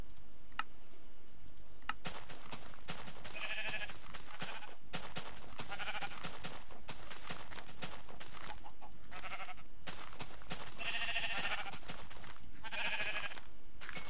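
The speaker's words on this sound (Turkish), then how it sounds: "Dört tane koyun var." Sheep in the Minecraft video game bleat several times in short bursts over a steady background hum and occasional clicks, loud and close.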